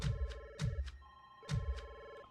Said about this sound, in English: Where are those dialing noises coming from?